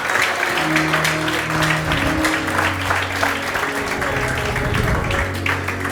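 A church congregation applauds for Jesus during a sermon, a steady wash of clapping over sustained organ or keyboard chords that run underneath throughout.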